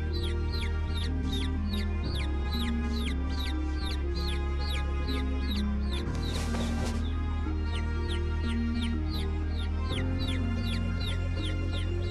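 A small young chicken peeps in a quick, repeated series of high chirps over a steady musical backing, with a brief rustling burst partway through.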